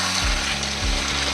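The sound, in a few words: stirring frying chicken curry for biryani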